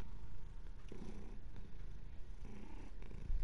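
A pet cat purrs softly and steadily up close, a low rhythmic rumble with faint breaths and small rustles, alone without talking.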